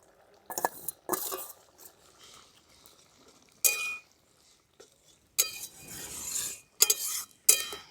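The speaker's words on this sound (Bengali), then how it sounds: "এরপর আমি চিংড়ি মাছগুলো দিয়ে দিচ্ছি।" Shrimp go into a simmering potato and poppy seed curry, producing short loud bursts of sizzling and utensil clatter separated by near-silent gaps, with no speech.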